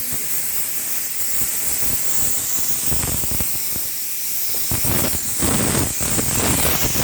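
A 12.5 litre pressure cooker boils vegetables in a hotel kitchen on a wood-fired stove, letting out a steady loud hiss of steam that swells with rougher bursts toward the end.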